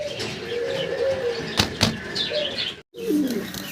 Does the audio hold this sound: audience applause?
no